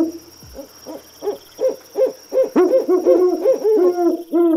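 An owl hoots over and over in a steady rhythm, the calls clear and close, growing louder and quicker toward the end against a quiet background.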